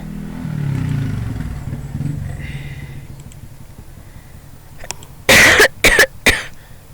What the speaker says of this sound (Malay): batuk pun dia tak lega-lega je.